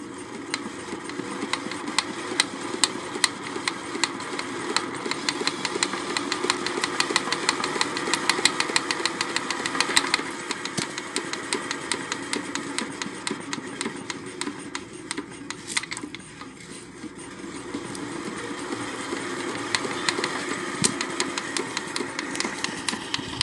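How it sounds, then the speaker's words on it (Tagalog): An R180 single-cylinder diesel engine with a compression release, steady rhythmic clatter and knock running close and loud for the whole stretch, dipping briefly partway through before picking back up. "Check muna natin ang kondisyon ng makina."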